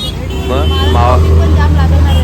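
Road traffic rumbles loud and close in a continuous low drone of passing cars and buses, with people talking over it.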